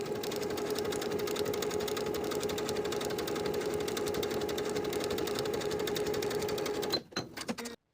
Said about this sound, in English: Sew the pocket lining to the seam allowance underneath with about 1/8 inch seam allowance